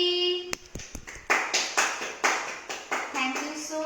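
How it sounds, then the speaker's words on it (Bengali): Scattered hand claps ring out at a small birthday celebration, a string of sharp, uneven claps close by with a little singing-like voice mixed between them. "হাততালি।"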